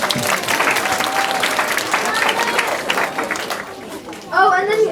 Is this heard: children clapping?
yes